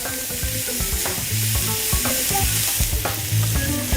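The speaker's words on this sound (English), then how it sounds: "Fry the onions and peppers in butter." Onions and green peppers fry in butter in a pan, a steady close sizzle with bright crackles and the scrape and clink of stirring throughout, no voices.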